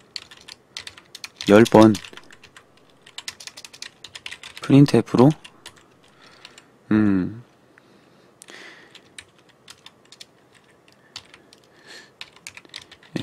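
Computer keyboard typing while C example code is written, bursts of quick clicky keystrokes scattered between and around short stretches of Korean speech, close and fairly clear.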